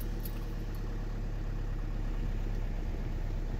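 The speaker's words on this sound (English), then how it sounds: "Now that I've replaced that fuse, turn the car on." A 2014 Chevrolet Cruze Diesel car engine runs at a steady, loud low idle throughout, with a brief click at the start and no voices.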